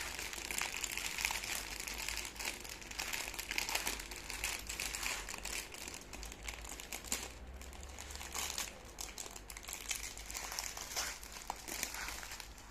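A four-pack wafer snack wrapper crinkles continuously as the package is torn open, a steady close rustle with no speech.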